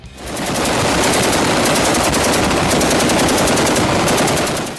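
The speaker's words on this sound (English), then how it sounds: "The Browning M2 is easily one of the most iconic, reliable, and lethal machine guns ever built." A Browning M2 heavy machine gun fires one continuous, very loud burst of rapid, evenly spaced shots lasting several seconds, close and with nothing else heard.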